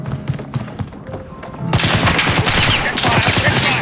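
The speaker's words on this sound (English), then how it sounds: "All units, sniper fire!" Sniper and automatic gunfire erupts in a Call of Duty Modern Warfare (2019) urban battle near Piccadilly, London, with repeated sharp shots and thuds growing denser and louder in the second half, amid faint radio-style chatter.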